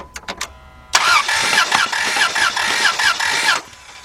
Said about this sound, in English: Next thing we're going to do is crank it over for about 3 seconds to get that oil to circulate around in there